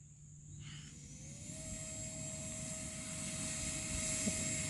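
An E-Flite F-18 Hornet radio-controlled jet with an 80mm electric ducted fan spools up into a rising, steady whine as it takes off, the high-pitched fan tone holding clear over faint outdoor background.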